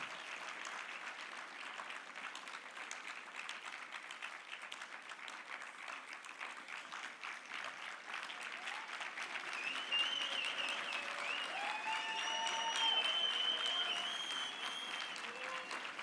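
A conference crowd keeps clapping in a long, even round of applause that swells slightly toward the end, with faint voices and whoops mixed in.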